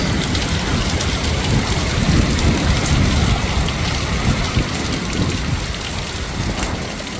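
Wind-driven rain lashes down during a high-wind storm in Georgia, a loud, dense, continuous roar of drops and gusts surging and easing outdoors, with no voices.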